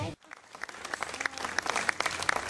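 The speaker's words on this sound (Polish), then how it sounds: "Jeszcze raz wielkie brawa." An audience applauds at the presentation of a graffiti mural of Czesław Niemen, scattered claps that start after a voice and swell into steady, moderately loud applause.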